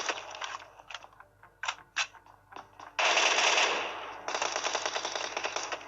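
MK14 rifle firing in a mobile battle royale game, bursts of rapid shots with mechanical clicks, then a loud sustained volley, up close with no talking.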